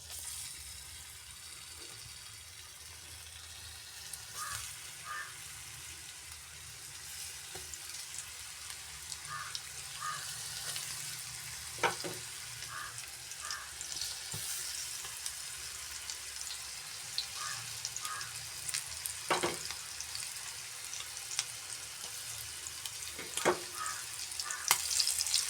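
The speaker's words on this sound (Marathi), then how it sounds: "आता त्यात हे बांगडे घालून फ्राय करते." Mackerel (bangda) fry in hot oil in a pan, giving a steady, close sizzle with faint crackles and a few brief pops and clinks throughout, no voices.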